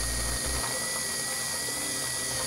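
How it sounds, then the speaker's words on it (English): A small rotary tool grinds against a bare metal spot on a vehicle body during trailer wiring harness installation, a steady whirring buzz held close and fairly loud throughout, with a heavier low rumble at the start. "or just gonna use a little rotary tool."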